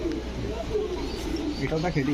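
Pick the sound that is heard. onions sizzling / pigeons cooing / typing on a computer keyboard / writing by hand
pigeons cooing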